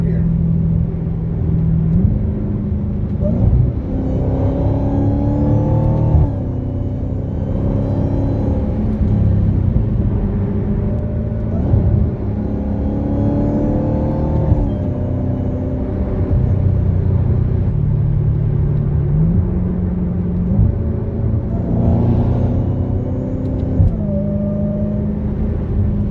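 A Dodge Charger Hellcat fitted with a GtHaus American Roar Racing exhaust rumbles loudly and continuously, its pitch stepping down and back up through several paddle-shifted downshifts, with talk running underneath.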